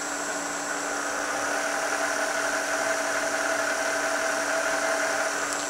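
The head of a used Trak bed-type two-axis CNC milling machine runs at speed, giving a steady, loud motor hum with tonal whine lines that stays even throughout and has no speech.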